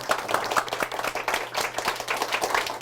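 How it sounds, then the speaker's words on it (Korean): An audience at a Korean book forum lecture claps together in dense, sustained applause, close and lively throughout with no speech over it. "자, 크게 박수 한번 보내드릴게요"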